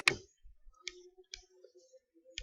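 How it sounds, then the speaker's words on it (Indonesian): Computer mouse clicks while working in a web admin template, a sharp close click followed by a few softer, sparse ticks at irregular intervals against quiet background. "coba kalau kita klik"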